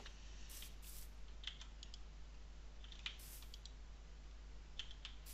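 Computer mouse clicking during Minecraft Tekkit play: a few faint, quick clicks in small bursts over a quiet steady hum.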